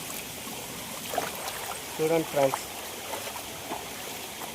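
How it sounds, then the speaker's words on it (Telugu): The overflowing Mettuguda waterfall rushes with a constant low roar. Someone talks briefly over it in short bursts. "ఇక్కడి నుంచి వాటర్ ఫాల్స్ ఎలా ఉందో చూడండి ఫ్రెండ్స్ వాటర్ అయితే అలాగ వస్తుంది చూడండి"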